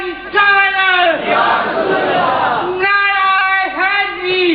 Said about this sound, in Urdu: نعرہ تکبیر نعرہ رسالت